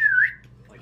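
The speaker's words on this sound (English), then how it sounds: "You whistle to your zombies and you gather them." A short whistle in the video game Stubbs the Zombie, used to call zombies together: one clear, close tone that dips slightly then rises before cutting off, over faint background hum.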